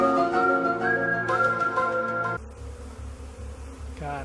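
A dense swarm of bees drones steadily and close up during a bee beard challenge, a continuous buzzing hum with shifting pitch that carries on throughout.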